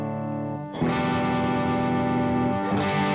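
A gritty electric guitar through the Neural DSP Cory Wong amp plugin's overdrive pedal holds a thick distorted chord, swelling louder partway through and ringing steadily with no voices.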